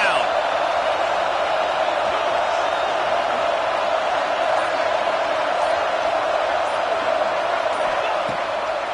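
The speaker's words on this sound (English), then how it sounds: "Decibels rising as the crowd gets behind this defense on 3rd down." A steady, dense roar from a stadium crowd in a college football video game, urging on the defense on third down, sustained and loud with no break, under commentary.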